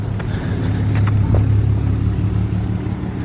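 A wrecked 2008 Ford Mustang Bullitt rebuilt as a Saleen clone rumbles steadily at close range, a deep continuous engine drone holding level for a few seconds with no voices.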